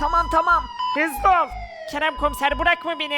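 A wailing electronic siren from a Minecraft game sweeps up and down continuously while urgent voices speak over it in short, hurried phrases.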